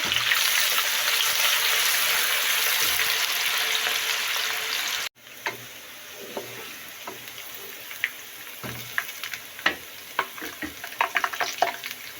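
Onions sizzle in hot oil for a tempering for Kabuli pulao, a loud hiss at first, then quieter crackling with scattered pops and stirring sounds.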